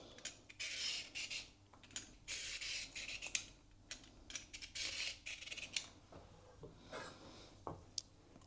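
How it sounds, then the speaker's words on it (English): Carrots are peeled for a one-pot beef bourguignon, giving close, quick rasping scrapes in a steady run of short strokes with brief pauses and no talking. "Now peel and dice your carrots."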